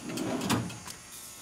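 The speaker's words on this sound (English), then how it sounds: "I'm loving the soft closed drawers on all these toolboxes that I've gotten." Soft-close drawers of a Craftsman 53-inch stainless steel toolbox slide shut with a gentle, muffled glide and a quiet damped thud, close by and without talk.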